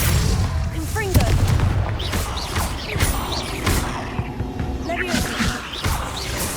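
Confringo blasting spells cast in Hogwarts Legacy inside a cave, repeated booming blasts and sharp impacts with whooshing magic effects and clattering mechanisms, loud and busy throughout, with a character's voice calling out amid the action.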